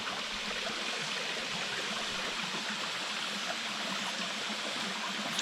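Water trickles and splashes continuously in a steady, close stream with no pauses.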